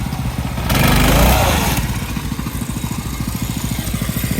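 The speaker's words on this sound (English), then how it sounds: "the clutch sounds so bad. Yeah. It's rattling." A go-kart engine runs with a loud surge and rev early on, then settles into a steady, choppy idle with a rattling clutch clattering rhythmically underneath.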